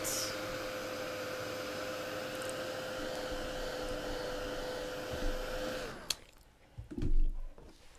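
A heat tool blows steadily to dry paint pen ink on a spring butterfly craft, a constant airy whir with a faint whine that cuts off near the end, followed by a few small handling knocks.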